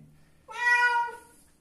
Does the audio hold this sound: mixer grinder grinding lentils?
no